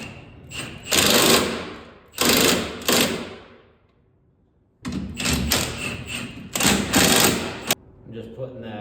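Bolt being tightened onto the steering shaft of a BMW E36 during a steering rack replacement, heard as two bursts of loud, close ratchet clicking that ends, then two more after a pause, with a voice talking briefly at the end.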